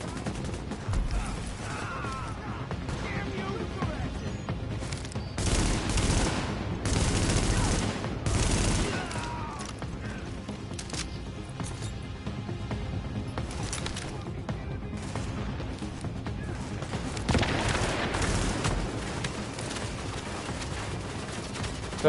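Sustained gunfire and machine-gun bursts in the PS4 shooter The Division, loud and dense with heavier volleys partway through and near the end, mixed with game effects and faint background talk.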